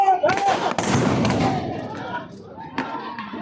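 Gunfire during a street protest in Dhanmondi: a few sharp, booming shots and thuds ring out amid crowd noise and shouting voices, loud at first, then fading into murmur with another report near the end.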